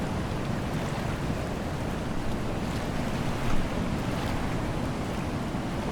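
Ocean waves in the sailing video game Following Seas form a steady, loud wash of surf with wind noise, rolling on continuously with one slightly stronger swell near the middle and no talking.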